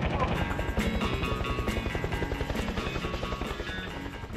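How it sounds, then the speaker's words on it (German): A helicopter's rotor thumps in a fast, steady beat in the video game Battlefield: Bad Company, loud and close, layered with engine whine and other game sounds. "Hubschrauber"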